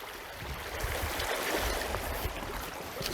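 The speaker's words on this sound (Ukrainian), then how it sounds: "Тут дуже хорошо вода е, е, шумить" Continuous broad rushing and splashing water, steady and fairly loud throughout with no voices.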